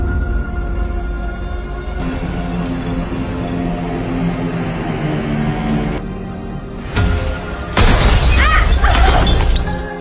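A lamp's glass shatters in a horror film scene, its sharp, bright burst of breaking glass arriving near the end after several seconds of tense music and a brief earlier crash.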